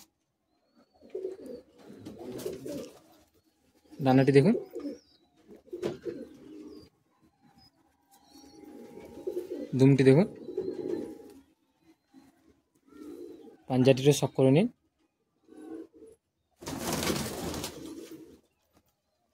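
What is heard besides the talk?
Madrasi high-flying pigeon breeding pair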